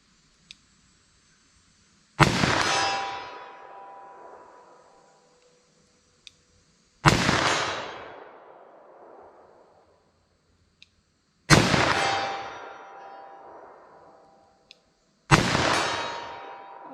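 Four sharp revolver shots ring out, spaced a few seconds apart, each a loud crack that decays over a second or two, with faint far metallic ticks of bullets striking a steel target 225 feet downrange between them.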